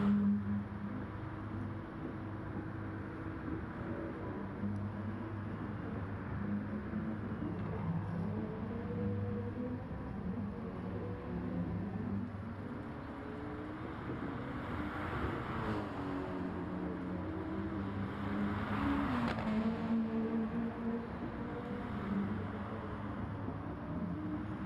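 Gr3 race cars lapping Fuji Short Track in an endurance race in a racing game, their engines droning and swelling, rising and falling in pitch as they pass, steady and moderately loud throughout.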